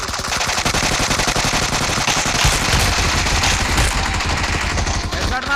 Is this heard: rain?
no